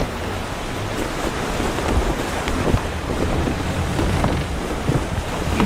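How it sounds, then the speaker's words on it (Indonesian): Calm sea at sea: a broad, steady wash of water and wind noise rolling on without distinct breaks, fairly loud and close, with no voices. "lebih tenang lagi ombaknya ya"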